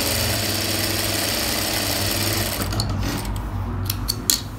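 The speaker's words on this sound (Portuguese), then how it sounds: "Uma costurinha pé de máquina desse lado." A sewing machine stitches the lining of a small zip pouch, whirring steadily at close range, then slowing into a few short bursts and clicks near the end, with no speech.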